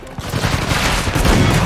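Shotgun fire in the video game Uncharted 4 plays as a loud, dense barrage of blasts and booms that fills the whole short stretch, close and heavy, with no speech.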